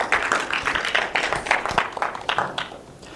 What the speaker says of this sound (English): Big round of applause for PJ